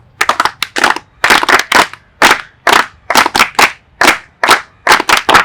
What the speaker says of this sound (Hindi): हमारे यहाँ एक परंपरा है स्वागत का ताली